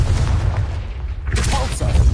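A Confringo fire-blast spell explodes in a Harry Potter video game, a loud, rumbling, noisy burst that swells again midway and sustains throughout.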